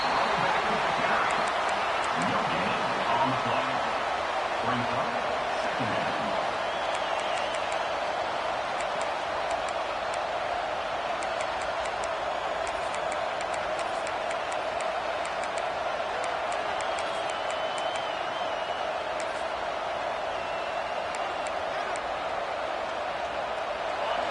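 A stadium crowd roars at a Texas A&M versus LSU college football game: a steady, diffuse roar holds throughout, with a voice talking briefly near the start.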